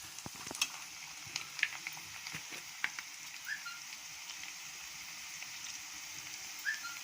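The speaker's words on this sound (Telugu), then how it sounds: "ఆనియన్స్ అయితే ఫ్రై అయినాయి కదా" Onions fry in a pan with a soft continuous sizzle, broken by scattered clinks and scrapes of stirring and a couple of faint whistling tones.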